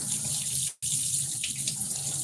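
Shower water pours in a steady, close hiss that cuts out for a split second before rushing on again.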